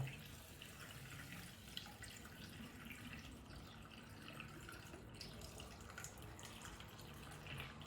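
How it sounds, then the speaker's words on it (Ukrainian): Cold tap water pours into a jar of pickling cucumbers and salt, a faint, continuous splashing and gurgling stream that runs steadily at low volume with no speech over it. "І заливаємо воду. Холодну, звичайну воду з-під крана."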